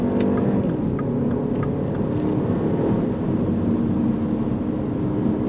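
Engine of a 2025 Mini Cooper S pulling hard under acceleration on the road, a steady loud rumble with road and wind noise throughout, no voices.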